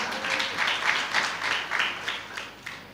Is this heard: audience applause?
yes